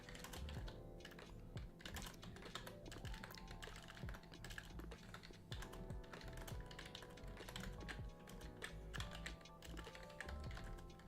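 Rapid, uneven clatter of keys being struck on a computer keyboard, close and fairly quiet, with bursts of typing and brief pauses throughout.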